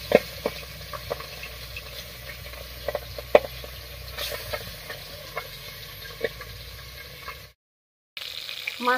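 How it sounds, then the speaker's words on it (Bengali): Pabda fish fries in hot mustard oil under a partly covered pan, a low sizzle broken by scattered sharp pops and spits of oil, with a brief dropout near the end. "এবার মাছটা ভাজবো, আর ভাজার সময় ঢাকা দিয়ে দিয়ে ভাজবো"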